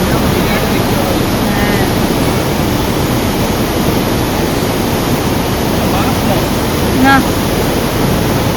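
Steady broadband rush of a mountain waterfall on a roadside viewpoint near Siliguri, a constant loud wash of falling water with no breaks, plus a brief faint chirp near the end.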